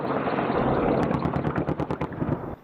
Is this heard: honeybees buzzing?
no